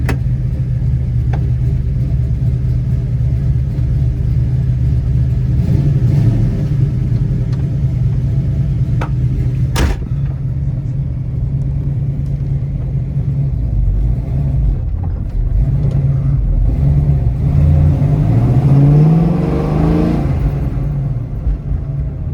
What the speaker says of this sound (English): Good, healthy exhaust.